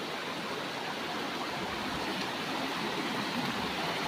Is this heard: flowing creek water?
yes